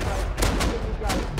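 A quick volley of gunfire in the survival video game Rust, several loud sharp shots in an uneven burst over a second and a half, close and harsh.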